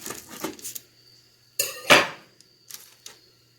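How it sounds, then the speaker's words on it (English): A knife slices a baked spelt flour biscuit in half on a plate, giving a few sharp scraping crunches and a clink of blade against the plate, close and fairly quiet, with brief pauses between strokes. "So now I'm going to cut one in half to see how the interior looks."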